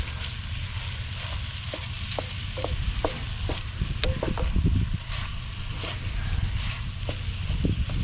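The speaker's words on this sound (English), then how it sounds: "Now I'm just going to brown my ground beef a little bit." Ground venison browns in a pan with a constant close sizzle, punctuated by repeated scraping and tapping of a spatula turning the meat, with a low rumble underneath and no speech.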